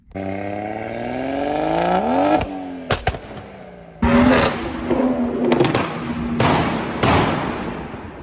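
Tuned cars with B58 engines rev hard, a rising engine whine climbing in pitch, then sharp exhaust pops and cracks and repeated loud bursts of throttle, close and aggressive.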